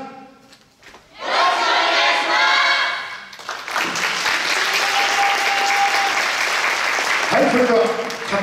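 Loud applause and cheering from a crowd at a YOSAKOI dance exchange event in Miyagi, swelling after a quiet start, easing briefly, then rising again as a steady roar of clapping and shouts.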